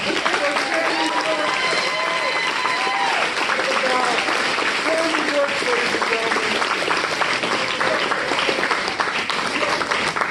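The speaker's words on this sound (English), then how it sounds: "A round of applause." Live improv comedy audience applauding loudly and steadily throughout, a dense wash of many hands clapping with cheers and voices mixed in.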